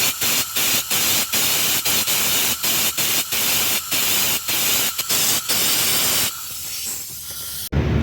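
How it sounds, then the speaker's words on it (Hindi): Compressed air is blown in repeated short bursts through the fuel line of a Ford Expedition that will not start, making a loud, harsh hiss with brief regular gaps before it tapers off. "तो अभी तो हवा का प्रेशर दिया है मैंने"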